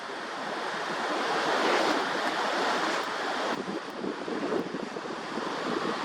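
Ocean surf rolls onto a beach as a broad, steady wash of noise, swelling and easing gently, with wind buffeting the microphone.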